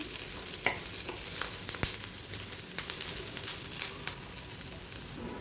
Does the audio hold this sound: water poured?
no